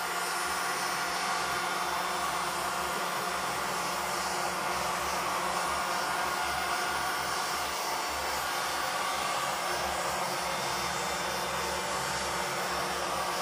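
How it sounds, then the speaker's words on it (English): A heat gun blows over acrylic pour paint with a steady, unbroken rushing whoosh that stays close and even throughout, with no voices. "let's go over it with a heat gun too."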